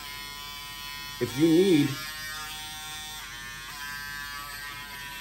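A Braun Series 7 electric shaver hums briefly with a steady buzzing tone, close and moderately loud, for under a second, while a person talks over a quiet background.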